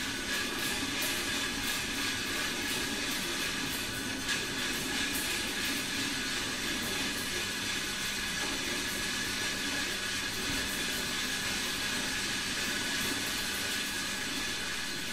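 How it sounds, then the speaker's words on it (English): A loud, continuous mechanical chatter comes from the cogs of the Mammoth Beat Organ, which have playing cards fed into them, with dense rattling clatter and a steady hiss throughout. "put playing cards into the cogs so that it creates a very loud chatter"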